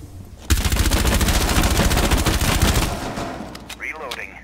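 Sustained automatic gunfire hoses down a wall in Rainbow Six Siege, a loud rapid burst running about two and a half seconds before tapering off, followed by brief faint sounds near the end.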